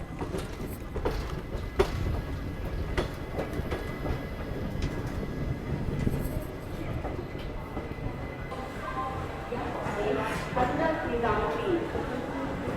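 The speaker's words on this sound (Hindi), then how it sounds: "काफ़ी स्लोली ट्रेन यहाँ पहुँची है" Passenger train on the Shreedham Express arriving slowly at a railway station, with rumbling wheels, rhythmic clicks over the rail joints and faint squeals, while people talk over it throughout.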